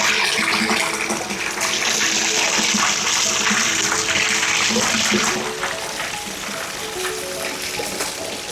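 Water running and splashing inside an old stone wash house beside an abbey, a steady rushing gush that stays loud and continuous throughout, easing slightly toward the end.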